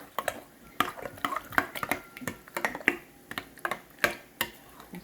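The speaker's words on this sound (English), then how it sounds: "Mix that up real good." Spoon stirring a squash casserole mixture with cream of mushroom in a bowl, irregular close clinks and scrapes with soft wet sounds between them, with no talk.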